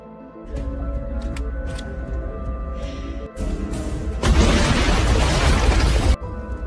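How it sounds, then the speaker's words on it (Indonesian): A loud burst of broadband noise erupts mid-clip and roars for about two seconds over a low rumbling background, like an explosion's blast. "karena ada sebuah ledakan"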